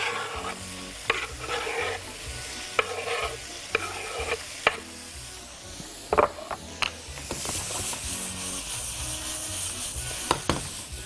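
Carrots, garlic, jalapeño and zucchini sizzling in a pot for Mexican meat soup, with a spoon repeatedly scraping and knocking against the pot over a constant hiss, no voices.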